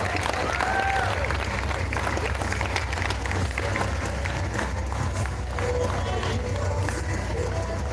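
Audience applause and crowd noise fill an arm wrestling finals event in Sydney, a steady dense roar of clapping and cheering that stays loud throughout, with voices mixed in.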